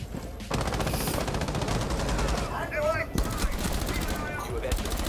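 Loud, rapid automatic gunfire rattles almost continuously in Rainbow Six Siege, breaking off briefly midway before the bursts resume.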